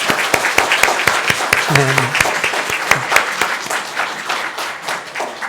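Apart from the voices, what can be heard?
church congregation applauding to welcome elders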